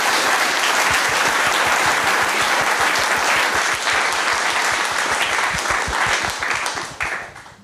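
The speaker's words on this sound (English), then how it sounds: "So we have a round of applause for our panelists." A panel discussion audience gives a round of applause for the panelists, loud and sustained clapping with many distinct close claps, tapering off over the final second.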